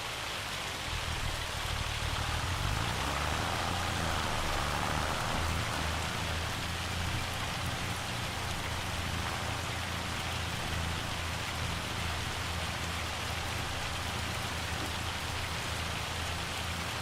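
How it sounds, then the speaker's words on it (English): Steady rain in Farming Simulator 25 hisses evenly and continuously, a dense, moderately quiet wash with no voices. "I will say the weather effects, even the rain looks a lot better and sounds better than it did in 22."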